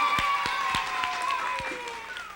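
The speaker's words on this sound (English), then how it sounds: "another round of applause because that makes John the official winner" A studio audience at a game show pilot claps for the winner, with a few scattered claps standing out over sustained musical tones that slowly slide down and fade.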